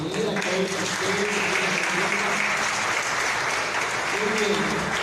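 Steady, dense applause from a church congregation welcoming a first-time visitor, loud and continuous throughout with a voice or murmurs faintly underneath.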